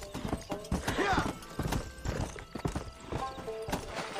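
Rhythmic clip-clop of horse hooves with a sharp neigh rising above, video game sound effects up close, with a voice speaking at times.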